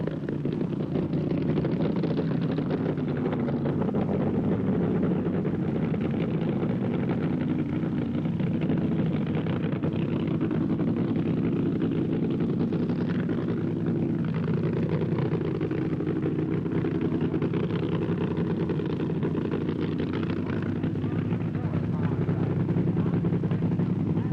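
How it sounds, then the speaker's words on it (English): A top fuel dragster engine at the 1968 NHRA World Finals in Tulsa gives a steady, heavy rumble filling the whole stretch, droning at an even level with a windy hiss and no clear revving peaks. "You can hear his engine coming up now"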